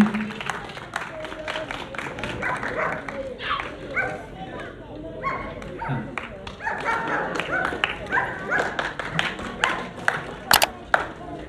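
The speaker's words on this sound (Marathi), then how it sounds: "त्यांचं टाळ्या वाजून स्वागत करायचं सर्वांनी." Crowd clapping at an outdoor dog show fancy-dress competition in Latur, scattered sharp claps spread across the clip with a dog barking here and there, while an announcer's voice carries on over the applause.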